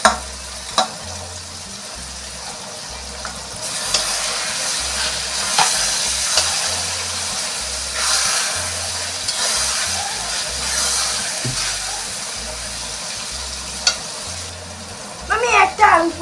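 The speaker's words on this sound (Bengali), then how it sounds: "আগে রসুনটা দিলাম, এই দেখুন রসুন দিচ্ছে।" Garlic frying in a pan of hot oil for chicken fried rice, a loud, continuous sizzle and hiss that swells midway, with low rhythmic thumps beneath and a few clatters near the end.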